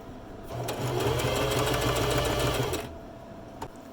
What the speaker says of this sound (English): we sew the French seam closed